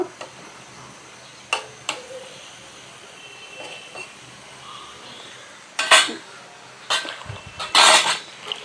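Eggplant curry being sautéed in a pan, with scattered clinks and scrapes of a spatula against metal and a few louder stirring bursts near the end over a faint hiss.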